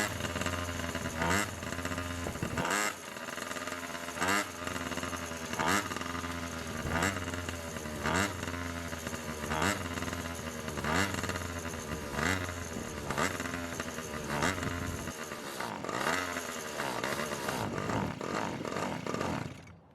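Two-stroke pocket bike engine running poorly, a loud, rough, uneven buzz that sputters and surges in revs throughout, close by with no talk.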